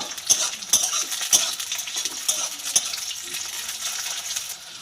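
Onions and slit green chillies frying in oil for masoor dal, a steady close sizzle broken by several sharp metallic clinks of a utensil against the pan, with no voices.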